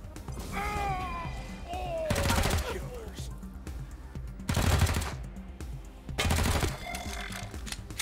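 Bursts of gunfire in the Wasteland 3 video game, several sharp volleys and rapid automatic fire separated by pauses, mixed with other game sounds and someone talking.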